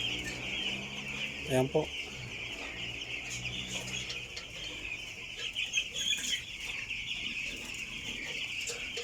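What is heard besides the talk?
broiler chickens clucking in grower house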